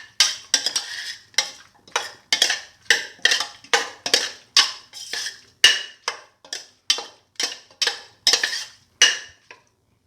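Chicken and fenugreek leaves being mixed in a bowl, giving a steady series of rhythmic clinking, scraping strokes, roughly two per second, close and clear with no talk.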